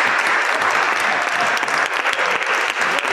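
Enthusiastic audience applause after a talk on American democratic socialism, a dense, unbroken round of clapping from a full room at steady loudness.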